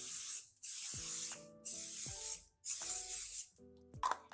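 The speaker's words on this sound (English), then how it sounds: "I'm going to use coconut spray to spray the waffle irons" Coconut oil cooking spray hisses onto a waffle iron in four loud, separate bursts, each roughly a second long, with short clicks and taps between them.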